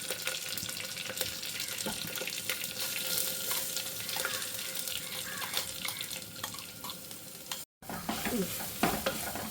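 Masala with curry leaves and dried red chillies fries in a pan while being stirred, giving a continuous close sizzle with scraping and stirring sounds and a brief break near the end.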